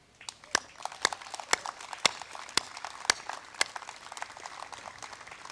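An audience at an Atomic Frontier Day welcome ceremony applauding children, scattered, fairly sparse claps with sharp individual hits over a soft wash, heard a little way off.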